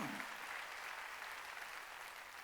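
A church congregation claps steadily during a service, a dense, even wash of applause with no pauses.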